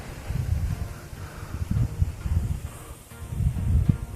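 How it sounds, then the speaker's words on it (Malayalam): Strong wind buffets the microphone on a misty hilltop viewpoint at Paithalmala in Kannur, coming as rumbling low gusts that rise and fall in waves with no talking. "നല്ല കാറ്റും വീശുന്നുണ്ട് കേട്ടോ."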